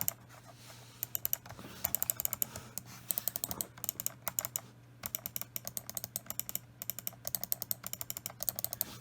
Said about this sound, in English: let's test out the clicking.